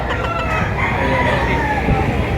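Chickens for sale at a livestock market in Padre Garcia, a dense clamor of clucking and a crowing rooster over steady crowd noise, with a voice briefly in the background.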